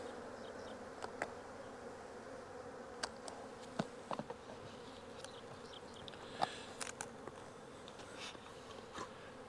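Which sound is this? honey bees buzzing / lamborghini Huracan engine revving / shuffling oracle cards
honey bees buzzing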